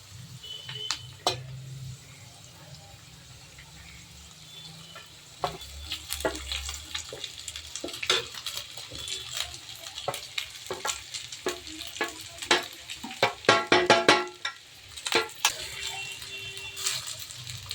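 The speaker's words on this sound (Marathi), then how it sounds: "आपल्या भाज्या पनीर वगैरे छान फ्राय झालेला आहे. आता त्यामध्ये आपण राईस करणार आहोत." Paneer and vegetables stir-fried with rice in a pan, sizzling steadily while a spatula scrapes and clatters in irregular bursts, busiest toward the end, close and fairly loud with no voices.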